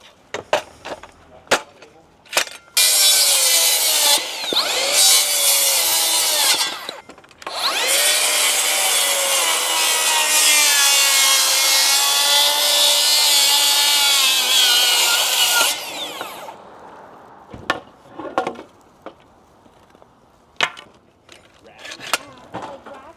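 Makita XGT 40V cordless circular saw cutting through wood in two loud, sustained passes of several seconds each, with a whining blade tone, followed by short clunks and handling knocks of the tool and workpiece.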